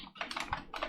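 Rapid, uneven clacking of fingers typing code on a computer keyboard, a close burst of keystrokes lasting under a second with no voices.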